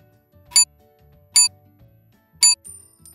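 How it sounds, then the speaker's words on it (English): A cash register sounds three sharp, bright electronic beeps at an even pace, each brief and loud against a quiet background. "She's working the cash register."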